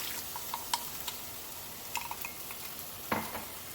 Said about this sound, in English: I want the sauce to touch the hot surface of the pan because that's what's going to help it thicken right in my pan.